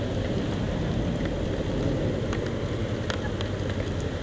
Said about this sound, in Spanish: pues ya nos agarró la lluvia aquí a mitad del review.